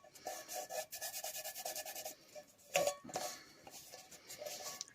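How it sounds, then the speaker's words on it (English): Steady scratchy rubbing as excess glue is worked off the covered outside of a tin can storage container, repeated rasping strokes close by with one louder scrape partway through, no voices. "You can just rub off any excess glue"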